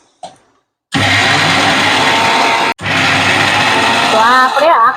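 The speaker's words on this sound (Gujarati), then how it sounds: "હવે આપણે મિક્સર જારમાં ચડાવી દેશું એને" A mixer grinder jar grinds green moong dal with salt in two loud, steady whirring runs separated by a brief stop, and a voice is heard over the motor near the end.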